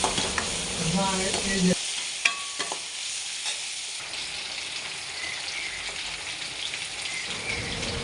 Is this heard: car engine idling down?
no